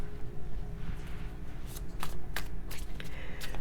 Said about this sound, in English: when I was shuffling too, I was getting the same energy